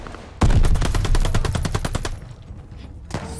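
Automatic gunfire in the Call of Duty Vanguard campaign: a loud, rapid burst of shots at close range lasting under two seconds, then a quieter tail and a final distant shot.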